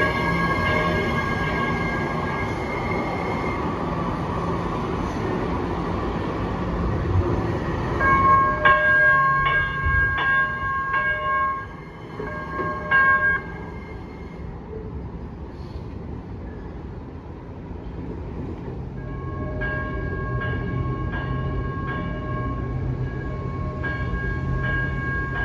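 A Minneapolis Metro Blue Line light rail train rumbles steadily at Target Field Station, its electric motors whining in layered tones that cut out and return, with no voices over the close, continuous roar.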